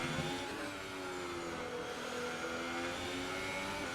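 A Formula 1 car engine in the game F1 2018 drones at high revs during the Japan round, a steady buzzing whine that holds its pitch with slight shifts, continuous and fairly close.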